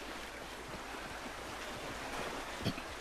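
A river flows around a character who has tumbled into it in Red Dead Redemption 2, giving a continuous quiet surf-like rush with a small splash near the end and no voices.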